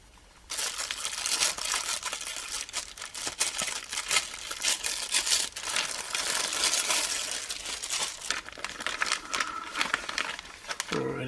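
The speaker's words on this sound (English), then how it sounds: "I nipped the big plastic bag on opening." Plastic packaging crinkles and rustles close by as a bag is torn open, with irregular crackling bursts over about ten seconds.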